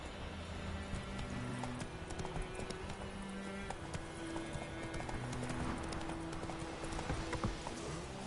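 Hooves of Roach, a horse in The Witcher 3 video game, clip-clop at a steady galloping rhythm, close and continuous, over layered game music and ambience.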